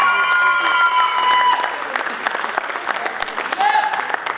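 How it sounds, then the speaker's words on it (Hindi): A theatre comedy audience claps loudly together in a dense, continuous burst of applause, with bright tones and a few voices mixed in. "जोरदार तालियां उनके लिए"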